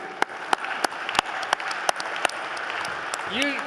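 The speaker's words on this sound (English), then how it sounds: "Applause, please, for Steve." Light applause for Steve at a university scholarship ball, a soft patter of clapping from the audience, with a low tonal sweep near the end.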